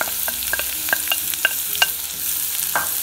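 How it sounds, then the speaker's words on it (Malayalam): Ginger, onion and green chili sautéing in a pan, with a steady low sizzle broken by a series of sharp spatula scrapes and stirs roughly every half second, close and clear with no talking. "ഇതെല്ലാം കൂടിയിട്ട് നമ്മളൊന്ന് നന്നായി വഴറ്റിയെടുക്കണത്"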